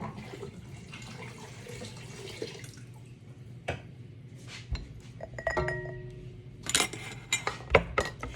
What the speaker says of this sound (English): All right, let's start jarring it up.